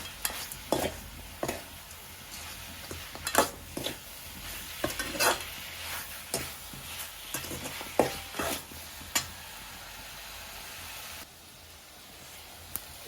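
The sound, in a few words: stirring salt into chicken kurma in a pot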